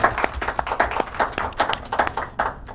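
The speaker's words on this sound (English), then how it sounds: "Let's give them a round of applause." A small audience on a local talk show claps for guests, with irregular, fairly close individual hand claps through a short, sparse round of applause.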